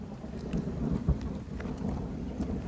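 Steady outdoor rain falls under deep rolling thunder, with low rumbles building and fading throughout while a few louder drops and crackles stand out.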